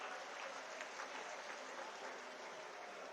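Applause from a large political rally crowd, steady and dense throughout, a continuous wash of clapping with no pauses and no speech over it.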